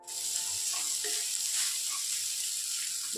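Finely chopped vegetables frying in oil for vegetable Maggi noodles, a steady, close hiss of sizzling that holds at one level throughout with no voice over it.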